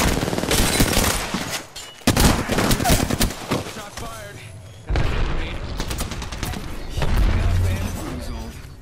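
Video game gunfire rings out in several loud bursts of rapid shots, broken by short gaps, while a voice talks over the shooting.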